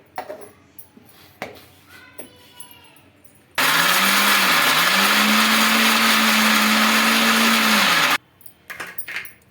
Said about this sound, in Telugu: ఇవి కూడా మిక్సీకి అయితే పట్టేస్తున్నాయి ఇప్పుడు క్యారెట్ ముక్కలు